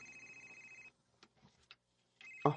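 A telephone rings in two short electronic bursts separated by a quiet gap with faint clicks, the second burst ending in a louder thump.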